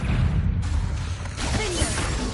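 The Confringo spell cast in Hogwarts Legacy on PS5, a low rumbling blast followed by a rushing, crackling burst that stays loud to the end, with no talking.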